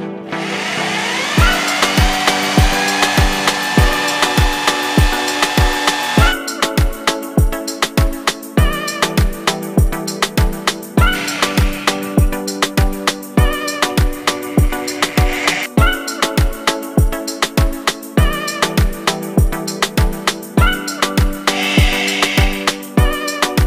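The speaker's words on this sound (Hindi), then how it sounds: "मैंने वुड वाले बीट से कैसे वुड में होल किया" A rotary hammer fitted with a wood bit through a chuck adapter bores a hole in wood, giving a loud, steady whirring drone with a rapid, regular pulsing beat that runs continuously, with no talking.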